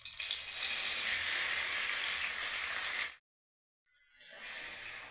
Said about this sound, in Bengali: ঘিটা এবার গরম হয়ে গেছে। এবার এর মধ্যে 2 কাপ মেথি শাক দিলাম।